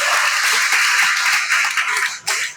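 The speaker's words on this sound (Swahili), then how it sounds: "Tumpigie makofi jamaa mpambanaji." Loud, close clapping from an audience at a talk on marriage, dense and steady, dipping briefly near the end before picking back up.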